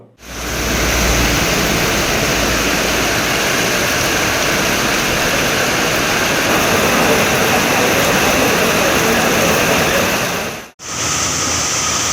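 Floodwater rushes from rivers and streams that overflowed their banks after heavy rain in a hilly region hit by landslides: a loud, steady, broadband roar that runs unbroken, except for a brief dropout near the end.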